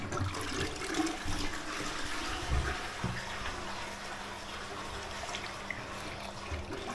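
A hotel bathroom toilet flushes nearby, water rushing and gurgling steadily before settling into a quieter refill trickle.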